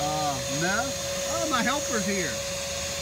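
A pond vacuum sucking up debris, giving a steady motor whine and hum under a person talking close by throughout.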